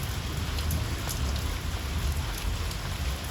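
Steady rain patters on a surface, a constant soft hiss with no voices, holding even throughout.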